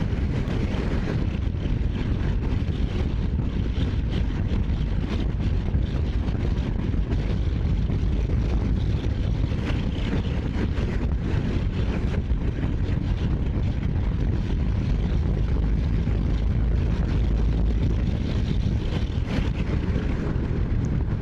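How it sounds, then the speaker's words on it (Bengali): A steady, loud roar of wind and engine noise rushes past throughout as a Honda NX 200 motorcycle rides at about 92 on an open road, with no voices. "ভাই এই রোডে আমি 92 পর্যন্ত তুলছি এই বাইকটা দিয়ে"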